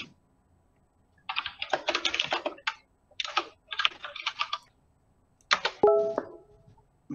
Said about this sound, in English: But he's typing.